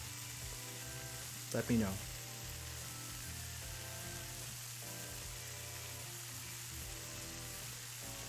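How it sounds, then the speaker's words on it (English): Water bubbles on a stove while breakfast is being cooked, giving a steady, faint hiss and sizzle throughout. Soft music plays underneath, and a voice speaks briefly near the start. "Can you hear the boiling water?"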